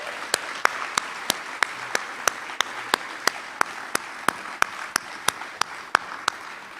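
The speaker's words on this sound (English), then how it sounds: "Can we give them another round of applause" Audience applause at a middle school ribbon-cutting ceremony: a steady wash of clapping, with sharp individual claps landing at an even pace over nearly seven seconds, no talking.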